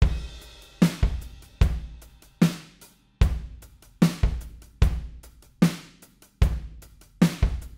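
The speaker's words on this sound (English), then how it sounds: "I created this little short demo song that sounds like this." A short Toontrack demo song's drum groove repeats with punchy kicks and snappy hits in a steady rhythm, playing on its own at moderate volume.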